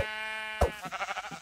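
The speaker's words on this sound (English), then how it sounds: "haha, sheep" A sheep bleats in a video game, a buzzy nasal tone that breaks into a wavering, pulsing bleat fading out over about a second.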